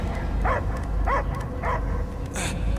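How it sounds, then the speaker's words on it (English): In the video game Marvel's Guardians of the Galaxy, a dog barks three times at a steady pace over a low background rumble, followed by a short higher yelp. "I hear only barking."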